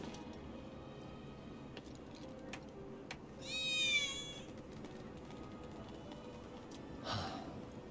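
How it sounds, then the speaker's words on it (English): A cat meows once in the video game Final Fantasy VII Remake, a short rising-falling cry heard clearly over a quiet ambient game background, followed a few seconds later by a brief soft rustle. "I hear cat."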